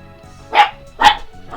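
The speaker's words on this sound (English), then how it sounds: "Sorry, you're probably hearing the dog there." A dog barks twice indoors, two loud sharp barks about half a second apart, followed by a fainter third yelp, over a low background hum.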